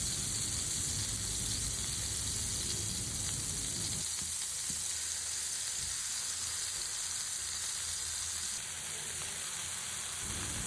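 Minced chicken seekh kebabs sizzle and fry steadily on a hot tawa, a dense, loud crackle that carries on without a break from start to finish.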